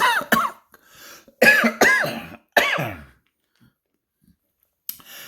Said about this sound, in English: This cough here.